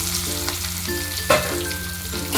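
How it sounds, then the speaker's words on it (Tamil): Asafoetida, chilies, curry leaves and cashews fry together in a pan for a pongal tempering, giving a steady close sizzle with a sharp clatter partway through, a faint high tone and no voices. "இதெல்லாம் கொஞ்சம் நல்லா கொஞ்சம் ஃப்ரை பண்ணி போட்டுக்கலாங்க"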